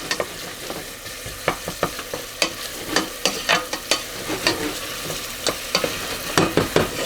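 A flat wooden spoon stirring sauce in a pan, repeated sharp scraping and tapping strokes in a loose rhythm over a low simmering sizzle, close and clear, no voices.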